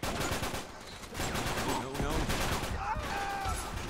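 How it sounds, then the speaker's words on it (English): Rapid bursts of automatic gunfire and grenade blasts crackle through an Uncharted 3 multiplayer match, dense and continuous with overlapping shots, while a voice talks underneath. "Grenades are flying everywhere, and I'm getting shot at multiple times."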